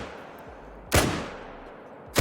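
Two sharp rifle shots ring out from a F.I. Sporter .303 in a hunting game, each a loud crack with a short decaying echo, spaced about a second apart over quiet.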